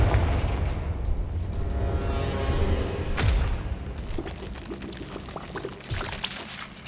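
A Confringo blasting spell goes off in Hogwarts Legacy, a loud boom with a sharp burst and rumble in the middle, followed by scattered debris clatter and crackles, set amid a continuous rushing, pouring ambience.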